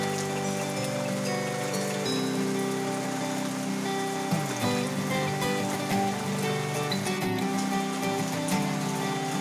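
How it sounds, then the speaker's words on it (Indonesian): Light drizzle pattering steadily on leaves and surfaces in a misty forest, a soft continuous hiss with faint scattered drops and no talking. "suasana hujan gerimis disertai dengan kabut tebal ini sangat disukai oleh kawanan gajah liar."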